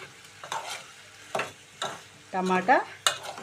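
Ripe chopped tomatoes go into an ivy gourd curry cooking in a pan, with intermittent stirring scrapes and short bursts of soft sizzling, fairly quiet and close.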